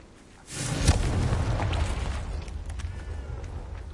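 Confringo explosive spell blast in Hogwarts Legacy, a sudden loud booming burst that rolls into a rumbling, crackling tail lasting a few seconds.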